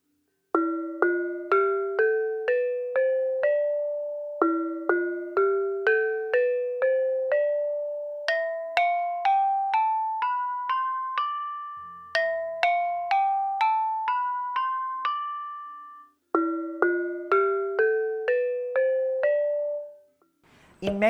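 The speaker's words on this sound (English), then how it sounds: "Pelog is a 7-tone scale with semitones," Indonesian gamelan plays the seven-tone pelog scale on bright, bell-like metallophones. Struck notes repeat in rising runs that climb and reset several times, ringing clearly with no talk over them.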